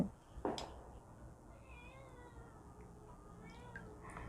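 A cat meows in a kitchen while a special recipe is being mixed, giving several drawn-out, wavering cries in the middle and end, with a brief clatter near the start and a faint background hiss.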